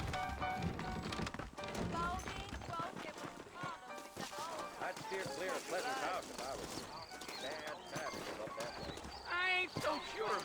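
Horse hooves clip-clop in a steady walking rhythm in the Red Dead Redemption video game, running under continuous character dialogue and background game sound.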